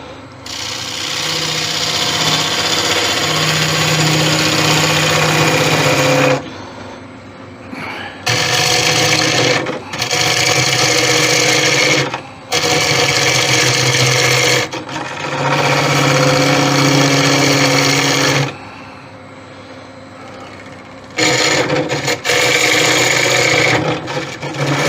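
Wood lathe spinning a monkeypuzzle wood vase during hollowing, a steady close hum with scraping tool noise, stopping and restarting in several bursts separated by short pauses.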